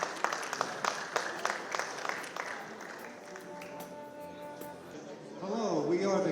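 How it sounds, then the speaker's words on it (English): Scattered clapping rises from the audience at a community unity dinner, loud at first and then thinning out, before tonal music and a voice over a sound system take over. "thanks for the big round of applause to the panel members"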